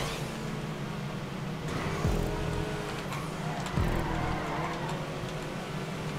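Car drifting through a land race in GTA 5 Online, a steady engine drone with tire noise and two brief louder surges, continuous and fairly close with no talk.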